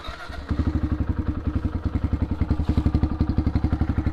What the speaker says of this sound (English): Oh, crank. See if it'll fire up.